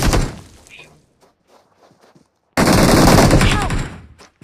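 Gunfire in the BGMI battle royale game, with a loud sustained burst of rapid automatic shots after a quieter stretch of fading shot noise and near silence.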